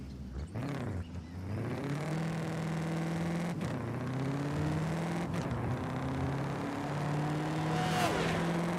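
A car engine in Forza Horizon 5 revs and holds a steady, sustained drone with shifting pitch, running continuously at a moderate level, with a few brief transient bursts.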